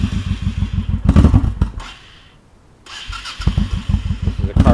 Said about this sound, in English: I'll go ahead and fire this one up as well.